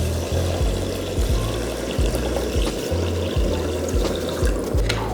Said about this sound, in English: Then we're gonna add 4 cups of water.